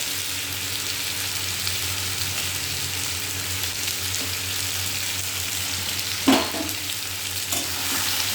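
Potatoes frying and being stirred in a pan, a steady close sizzle with a sharp scrape of the utensil near the end, no voices.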